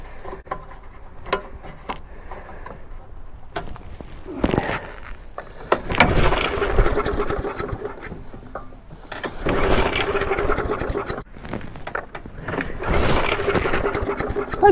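Petrol lawnmower that has sat unused for a long time being started: repeated pull-cord yanks and sputtering engine bursts that catch and rev loudly in surges, close up, between quieter rattling pauses.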